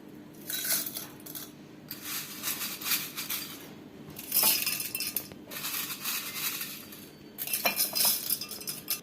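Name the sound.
cornflakes being put into a glass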